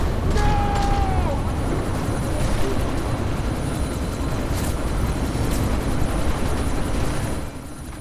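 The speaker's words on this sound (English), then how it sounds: "you need to disable that chopper" A helicopter in Deus Ex: Mankind Divided during a sandstorm, a loud continuous low rotor rumble and roar with wind noise, steady and close, tapering slightly at the end.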